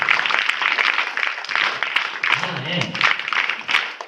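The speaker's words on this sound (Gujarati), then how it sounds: "3 ની તાલમાં તાળી વગાડજો." A crowd at a village Republic Day celebration claps along in bursts over a loud, reverberant announcer's voice on a PA.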